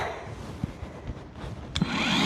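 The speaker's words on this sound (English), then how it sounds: "go over it with the flat part of the grinder just to get rid of all the little sticky outy bits" An angle grinder's flat face smooths off small burrs and sharp edges on metal, a steady close rasping hiss with a sharper scrape near the end.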